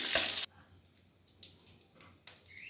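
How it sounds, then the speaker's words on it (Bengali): A sharp burst of sizzling as whole spices, bay leaf and a dried red chilli hit hot oil in a pan, then quieter intermittent scraping and stirring with brief crackles, close by. "পাঁচ ফোড়ন দিলাম, তেজপাতা দিলাম, শুকনো লঙ্কা একটা ফোড়ন দিলাম। একটু ভালো করে নেড়ে নিই।"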